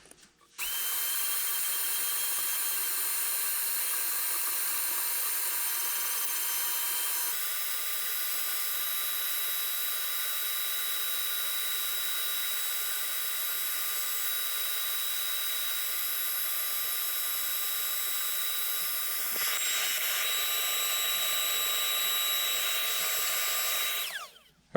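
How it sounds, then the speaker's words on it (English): A vacuum cleaner runs over the coils of an LG portable air conditioner, a steady, loud motor whine with a shifting pitch that drones almost continuously, changing tone midway and again near the end. "we're just going to use our vacuum and we're going to start vacuuming that off"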